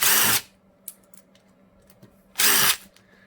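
Two short bursts of a power drill backing screws out of a Makita Hole Hawg stud and joist drill, loud and close, separated by quiet pauses with faint clicks of handling.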